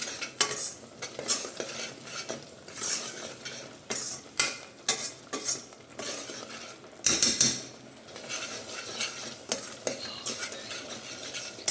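A spoon clanks and scrapes in a pot as mint, coriander and cardamom fry for mutton mandi, with irregular metallic stirring hits over a light sizzle, close and fairly loud.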